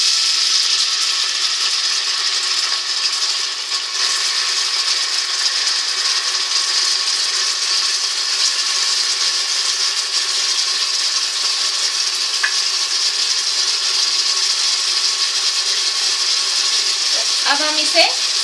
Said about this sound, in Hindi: अब हम इसे सुनहरी होने तक भून लेंगे।